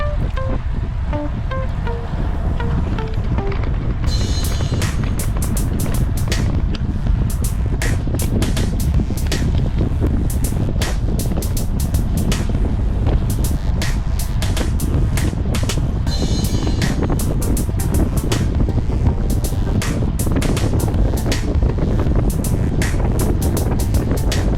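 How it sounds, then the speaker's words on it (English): Strong wind roaring across the microphone of a bicycle on a rolling road, a constant loud buffeting rush with gusty bursts throughout and no talking. "Listen to that wind."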